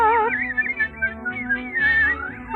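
Cheerful melodic whistling of a work tune during household cleaning, a bright wavering line running continuously over soft background music.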